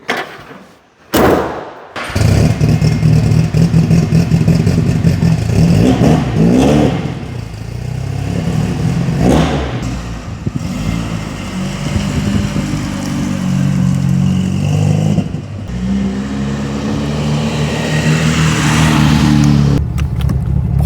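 A 1965 Triumph TR4 with independent rear suspension roars to life after a couple of door slams, its engine revving loudly through the gears on an open road test, with a strong, sustained exhaust note and shifting pitch.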